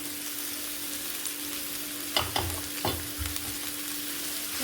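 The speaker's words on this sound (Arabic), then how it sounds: "غادي نحركو." Chopped red and green peppers frying in a pan, a steady close sizzle with a few scraping stirs of a utensil partway through.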